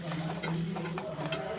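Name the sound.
chopped tomatoes added to the pan and sautéed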